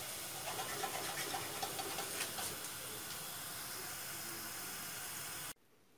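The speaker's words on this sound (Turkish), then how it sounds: "Kızartacağız hepsini de." Pine-cone shaped yufka manti frying in a small amount of hot oil, a steady dense sizzle and hiss that carries on evenly and then cuts off abruptly near the end.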